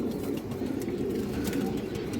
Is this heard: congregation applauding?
no